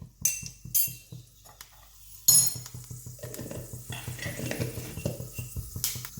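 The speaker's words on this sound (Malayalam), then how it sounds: "എണ്ണ ചൂടായി വന്നു കഴിഞ്ഞപ്പോൾ 1/2 സ്പൂണ് ഉലുവയാണ് ഇട്ട് പൊട്ടിക്കുന്നത്." Half a spoon of fenugreek seeds sizzles in a couple of spoons of hot oil for a Kerala mango curry, with a steady soft crackle under repeated light clinks and scrapes of a spoon stirring the pan.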